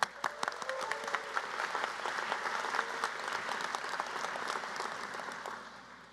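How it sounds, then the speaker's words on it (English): Steady audience applause at an engineering master's hooding ceremony, a dense wash of clapping from a large crowd in a hall that holds evenly for several seconds before tapering slightly. "let's give a round of applause to all the amazing moms here on Mother's Day weekend"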